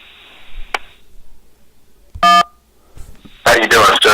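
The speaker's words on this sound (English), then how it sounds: "To accept, press 1." A telephone keypad tone sounds once as 1 is pressed to accept a call, a short bright beep between stretches of near silence, with brief speech before and after it.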